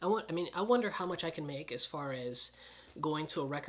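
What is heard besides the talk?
No everyday noise stands out behind the speech.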